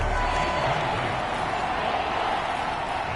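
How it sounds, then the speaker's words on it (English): A stadium crowd roars steadily at a football match in a PS4 video game, a dense continuous wall of cheering noise that holds at constant loudness throughout. "This crowd turning up the decibel level."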